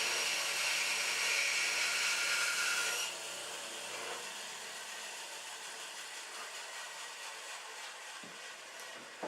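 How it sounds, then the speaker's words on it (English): A small bandsaw cuts through wood, a steady close whirring rasp that drops in pitch and loudness partway through as the blade runs on, with no talking. "A small bandsaw isn't going to leave a clean cut"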